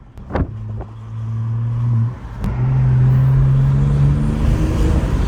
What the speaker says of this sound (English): You hear that turbo, that blow-off valve